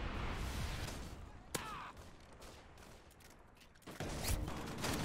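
Striker shotgun fire in Call of Duty MW2 gives a few sharp, punchy blasts, one standing out clearly, then a burst of rapid gunfire in a loud multiplayer firefight.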